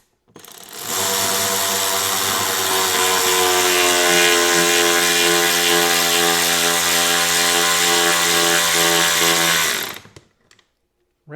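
A Ryobi 4V lithium cordless 3/8-inch ratchet drives a screw all the way into a wooden workbench, a loud continuous buzzing whine with rapid ratcheting that holds steady for about nine seconds, then stops abruptly.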